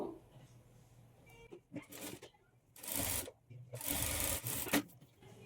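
A sewing machine stitches a double-folded hem on chudidar pants in three close bursts of whirring, separated by short pauses.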